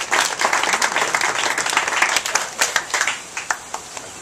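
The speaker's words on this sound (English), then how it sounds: "that deserves a round of applause" An audience at a school gift announcement applauds, the clapping dense and loud at first, then thinning into scattered individual claps as it dies away.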